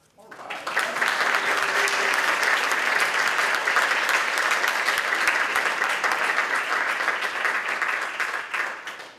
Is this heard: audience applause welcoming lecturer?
yes